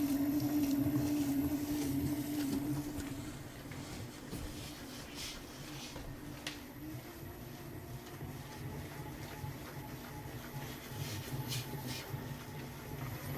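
A KYS Pro Baker 7+ spiral mixer kneads 3 kilograms of pizza dough with a quiet, steady mechanical hum and whir, low in level and continuous throughout.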